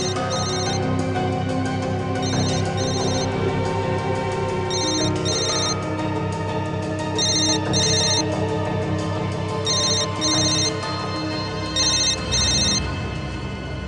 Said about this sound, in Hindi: किसका फोन है ये?